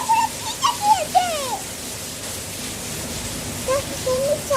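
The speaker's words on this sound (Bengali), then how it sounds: "দেখো কত বৃষ্টি পড়ছে।" Rain falls steadily as a broad, even wash of noise with a faint gusty texture, while a few short voiced calls or brief talk sound over it near the start and end.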